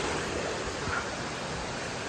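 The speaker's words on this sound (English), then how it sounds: "There's a brook we're going up alongside here." A brook flows alongside a hiking trail climbing toward Galehead in the White Mountains, a steady broadband rush of running water that stays even and close throughout, with no voices.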